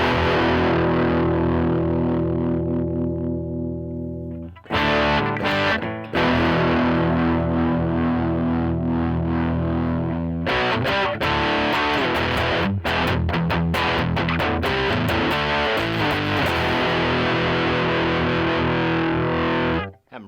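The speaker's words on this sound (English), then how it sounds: "so then we have distortion" An electric guitar is played through the distortion effect of a Line 6 Pod Express, loud sustained chords with a brief pause and strummed, choppy passages, alone with no talking.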